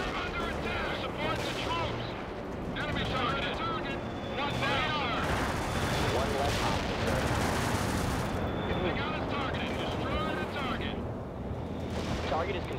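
Artillery fire mission in World in Conflict, a busy battlefield of gunfire and shell impacts crackling and thudding continuously at moderate level, with a voice talking over it.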